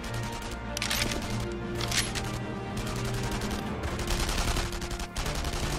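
Gunfire from the video game Enemy Front, set in a chateau assault in the Loue Valley: a sustained volley of rapid rifle and machine-gun shots crackles repeatedly over a low game soundtrack, with several bursts clustered together.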